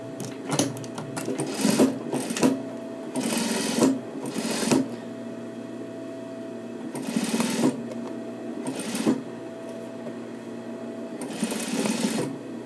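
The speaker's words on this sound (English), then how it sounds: "You gotta be quick to stop your machine, otherwise you're gonna sew right over your finger." A sewing machine stitches a coat seam in several quick bursts of rapid mechanical chatter, separated by short pauses with a low background hum, heard up close.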